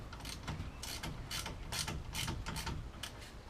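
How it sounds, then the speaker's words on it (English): A 1/2 inch ratchet nips up the brake caliper bolts on a 1991 Toyota Celica GT, close and clear, in short rapid bursts of clicking. "Don't have to go mad, especially with a 1/2 inch ratchet."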